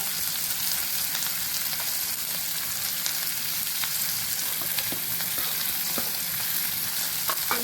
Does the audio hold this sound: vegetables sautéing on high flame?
yes